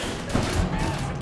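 Gunfire rattles in Mafia III during a police shootout, a short burst of loud, closely spaced shots over constant background noise.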